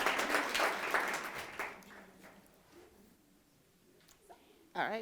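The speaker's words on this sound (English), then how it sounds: "Applaud. Applaud." Audience applause at a talk on scaling up circular solutions, a loud burst of clapping in the first seconds that fades away, with a voice entering near the end.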